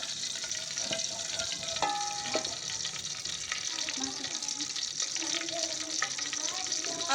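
Cumin seeds sizzling in hot oil or ghee in a pan, a steady close crackling hiss with faint clinks, and a voice speaks in the background.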